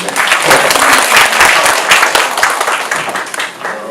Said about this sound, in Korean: 그래서 박수 한번 주시는 게 좋은데